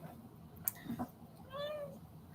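A pet cat gives a short, soft meow indoors, faint and up close, following a couple of small taps and rustles in a quiet room.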